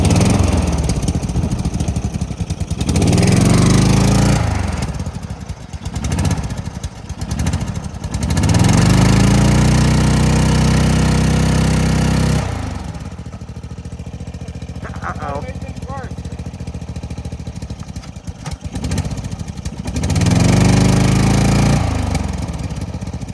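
A homemade mini jeep's small engine fires up and runs loud and close, its rough mower-like drone rising and falling in bursts, dropping away briefly mid-clip before surging again, with voices talking over it.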